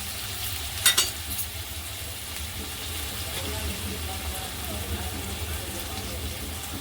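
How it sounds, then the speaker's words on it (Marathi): Onions sautéing in a pan for a mixed sprouts usal, a steady close sizzle with occasional stirring scrapes and one sharp clatter near the start. "कांदा चांगला परतून घ्यायचा आहे जास्ती लाल पण नाही करायचा"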